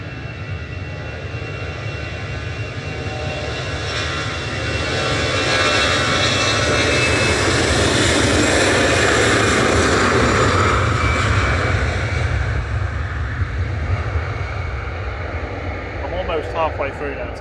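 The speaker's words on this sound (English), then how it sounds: "EasyJet off to Amsterdam" An easyJet airliner takes off from Manchester Airport, its jet engines a broad roar that builds, peaks in the middle and slowly recedes, heard from the spotting area with a person talking over it.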